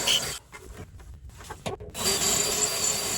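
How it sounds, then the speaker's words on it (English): A power drill whirs into a 2026 Ram 2500 truck while drilling a pilot hole to install drop steps, its steady grinding interrupted by short pauses, then resumes as a continuous buzzing bore. "Drill a pilot hole."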